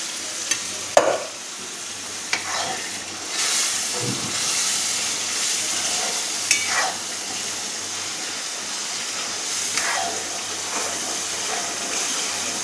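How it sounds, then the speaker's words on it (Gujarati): Tomato paste sautéing in a pan for a potato masala dish, with a continuous hiss of frying broken by several spoon scrapes as it is stirred. "બધાને મિક્સ કરી અને થોડી વાર સાંતળવા દઈશું"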